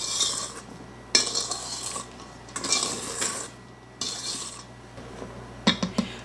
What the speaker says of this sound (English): we're going to go ahead and scrape down the sides of this mixing bowl. We can just use the beater for that